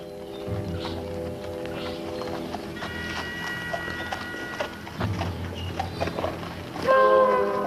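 Horses walking with a steady clip-clop of hooves, heard under a busy, layered background of other sounds that grows louder toward the end.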